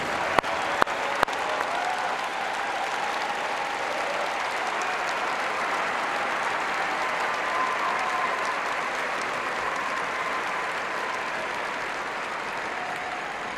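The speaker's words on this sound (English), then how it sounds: "Let's give them another big round of applause." A large audience at a science education opening ceremony gives a big round of applause for parents, coaches and helpers, a steady, even roar of clapping that continues unbroken throughout.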